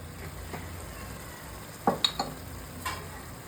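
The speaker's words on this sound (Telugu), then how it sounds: "ఇప్పుడైతే పసుపు వేసిన తర్వాత మనం మిక్స్ చేసుకోవాలి" Stirring turmeric into a Telangana-style fish curry in a pan: a low continuous sizzle with a few sharp scraping knocks of the spoon against the pan near the end.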